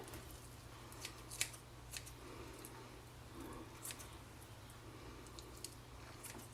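Knife cutting fat from a raw chicken thigh on a cutting board: faint, soft snipping and squishy slicing sounds spaced irregularly over a low steady hum, with no talking.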